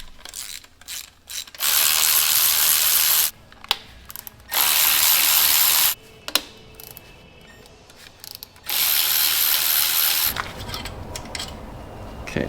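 Bolts come out of a Ferrari F430 transmission during removal. A ratcheting power tool buzzes in three loud bursts of a few seconds each, separated by quieter clinks and handling noise.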